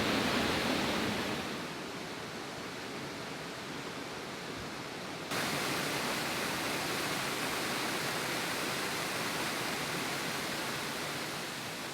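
A river rushes and a waterfall roars in a steady, loud broadband wash in the Brecon Beacons waterfall country, with the level dropping briefly then surging back.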